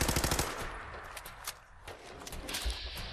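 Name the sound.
gunfire in the video game Fallout 4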